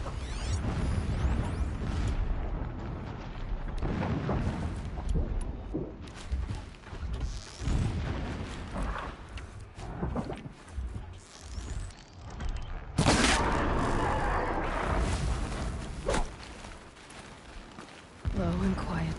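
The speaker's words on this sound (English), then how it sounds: "explosions in the distance" Distant explosions rumble and boom in Horizon Zero Dawn, low and muffled, set among game mechanisms and ambient noise, with a sharper burst around the middle and voices talking over parts of it.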